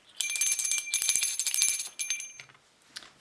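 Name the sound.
small hand bell ringing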